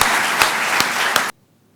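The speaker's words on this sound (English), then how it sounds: "a thunderous round of applause for Swamiji before he begins" An audience gives Swamiji a dense round of applause with a few sharper individual claps standing out, cut off suddenly after just over a second.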